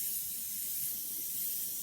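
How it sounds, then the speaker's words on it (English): An airbrush sprays paint onto a paper pad, a steady close airy hiss held evenly throughout, alone without speech. "I do have a paper pad that I spray on that's off to the right."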